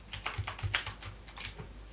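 Quick keystrokes on a computer keyboard as a section name is typed, a close, steady patter of light clicks with no talk.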